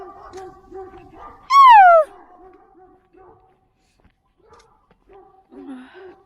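A dog gives a single loud, drawn-out whining bark, with smaller yips and barks scattered before and after.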